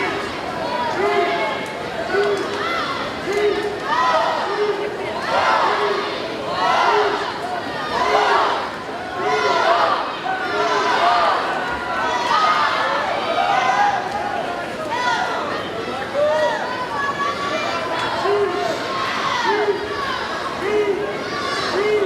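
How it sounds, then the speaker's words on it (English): At a swimming meet, a spectator crowd chants in unison in a steady, rhythmic pulse that repeats throughout, loud and reverberant in an indoor pool hall, with scattered voices and chatter mixed in. "Crowd chanting in unison, trying to move on their swimmers."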